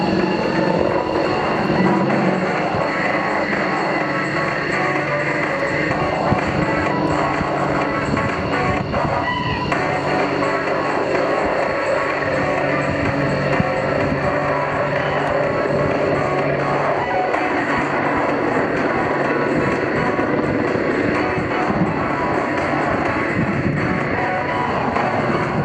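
An AH-64 Apache helicopter of the RNLAF display team flies display maneuvers at an airshow, including a turn of more than 360 degrees, its loud, steady rotor and engine roar filling the air without a break.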